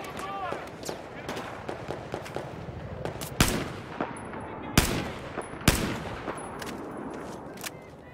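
Gunfire in the video game Battlefield 4: scattered shots and bursts, with several sharp, loud cracks standing out from quieter firing, while someone talks intermittently.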